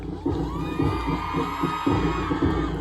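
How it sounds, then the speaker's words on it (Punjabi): Crowd at the opening of a boxing tournament in Punjab, clapping and cheering in a steady, busy wash of noise, with excited shouts rising above the dense applause throughout. "ਤਾਲੀਆਂ ਮਾਰਿਆ ਇੱਕ ਵਾਰ ਫਿਰ ਤੋਂ"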